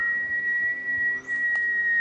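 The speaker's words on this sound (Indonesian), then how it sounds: "Ini siulan terkeras yang pernah aku dengar." A very loud, sustained high whistle holds one steady tone for about two seconds with little change, close and alone.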